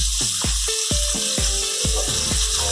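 Burger patties and pineapple rings sizzle loudly in a hot pan, a steady frying hiss broken by a series of dull thuds and scrapes as a spatula flips them one after another, close and without talk.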